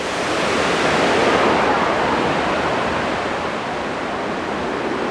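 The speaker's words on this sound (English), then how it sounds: "there is just like the spray from the waterfall is like spraying out quite a lot" Spray from Sojeongbang waterfall on Jeju pours out as a broad, steady rushing hiss, close and constant with no breaks.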